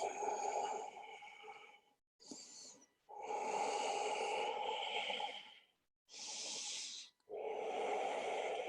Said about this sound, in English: really tuning into those long inhales and those deep exhales